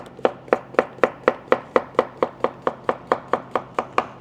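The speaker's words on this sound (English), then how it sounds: "we're gonna chop up our vegetables." A knife chops zucchini on a cutting board with about seventeen crisp, evenly spaced strokes in a steady fast rhythm, close and clear with no talk.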